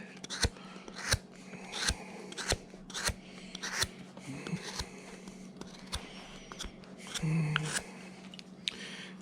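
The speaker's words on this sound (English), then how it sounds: "to speed it up a little bit, I'm using this big gouge here" A big gouge carving a wooden hobo bust, producing a series of quiet, crisp scraping cuts repeating roughly every half second to second against a faint background hum.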